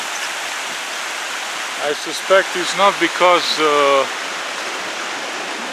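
A mountain creek in Banff National Park runs as a steady, broadband rushing wash throughout, with someone talking over the middle portion.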